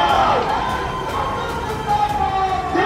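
Large crowd of party workers shouting and cheering at Akhilesh's road show in Uttar Pradesh, a dense, loud, continuous roar with tonal horn or siren-like wails running through it.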